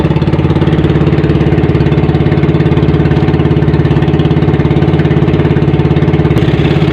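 A fishing motorboat engine drones steadily and loudly throughout, with a fast, even chugging pulse and no other sounds.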